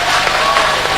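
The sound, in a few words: audience applause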